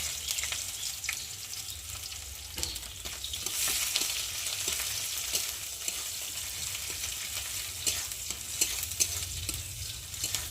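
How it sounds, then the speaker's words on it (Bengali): Chopped onions fry in oil in a hot wok with a continuous bright sizzle, broken by a steady series of stirring scrapes and taps, close and fairly loud with no voices. "এখন আমি কেটে রাখা কুচানো পেঁয়াজগুলো দিয়ে ভেজে নেব তেলে নেব"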